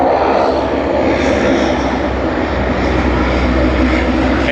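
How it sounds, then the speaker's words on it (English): A QantasLink Airbus A220-300 in broccoli livery passes close by at Sydney Airport, a loud, steady engine roar filling the moment without any talk. "QF1508, that is Qantas link with their Airbus A220-300. They will pass in front of us"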